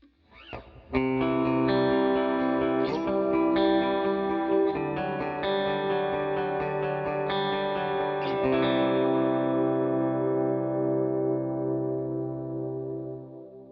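A sustained, distorted electric guitar chord through an HX Stomp stereo setup with dual delay and GarageBand reverb rings out with wide echoing repeats and a long reverb tail that slowly fades after the last strums.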